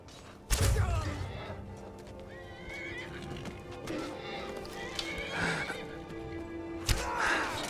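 A horse in the Skyrim video game whinnies and snorts amid hoof clip-clops and heavy thuds, with sharp impacts and a few faint voice-like cries layered over a steady game ambience.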